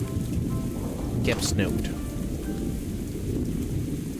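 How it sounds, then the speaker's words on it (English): Rain pours steadily in the video game Outward 2 while thunder rumbles. A brief sharp crack sounds in the middle, and a voice speaks briefly over the storm. "Aw, man, and now it's raining"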